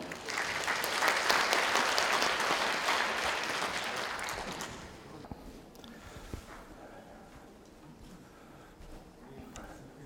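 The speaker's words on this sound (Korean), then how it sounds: "큰 박수로 환영해 주시기 바랍니다" A room of attendees at a tax software roadshow gives a big welcoming applause, loud dense clapping for about five seconds that fades into softer scattered claps and room noise.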